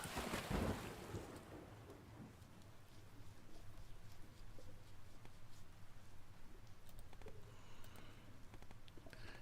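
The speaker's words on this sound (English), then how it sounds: "I can hear water." Underwater ambience in the video game Snacko: a steady, muffled wash of water and low rumble after a brief louder splash at the start, continuous and moderately quiet with no talking.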